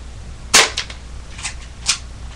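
Airsoft gun fired during target practice, three sharp cracking shots spaced about half a second to a second apart over a low steady background hum, with no voices.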